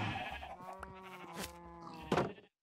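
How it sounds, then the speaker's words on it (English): Sheep bleating in Minecraft, a couple of wavering, nasal bleats close by, the second ending in a sharper burst, with no talk. "So I need to get the chicken in, or out, but the sheep stay in."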